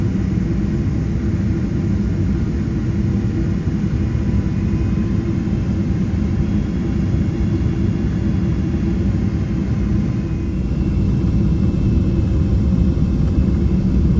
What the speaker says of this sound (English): This is a really chill landing. Wow, that was a very mellow landing.